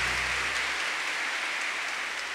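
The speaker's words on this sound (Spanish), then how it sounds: "El aplauso que se lo merece." A crowd applauds at a Christian worship concert, a steady, fairly distant wash of clapping that holds evenly from start to finish without any voices on top.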